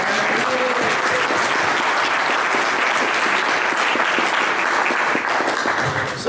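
Sustained, dense applause from a room full of people at a Rotary Club meeting, loud and steady throughout with no voices over it.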